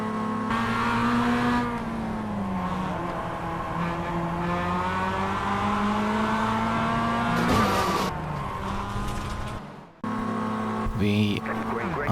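Mazda Cup race cars gridding in Japan in a racing video game: a continuous engine drone with shifting revs and a brief rougher burst near the end, loud and steady throughout.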